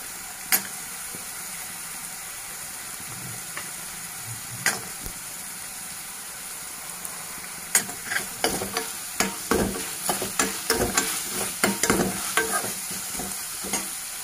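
Ginger paste and cashews frying in a pan for paneer kofta, with a constant soft sizzle and sharp clicks of a spoon stirring against the pan, sparse at first, then frequent and busier.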